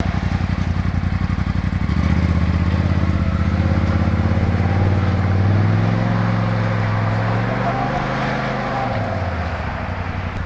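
Engine of a 2026 Polaris RZR Pro S side-by-side runs loud and close, a throbbing idle that revs up, holds, then winds back down to a low rumble.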